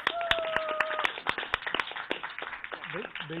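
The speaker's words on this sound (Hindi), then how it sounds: "एक मोदी जी के लिए तालियां" Scattered clapping from a small group, uneven sharp claps of moderate loudness, with a voice speaking over the first part and more voices toward the end.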